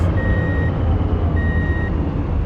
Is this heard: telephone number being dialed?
no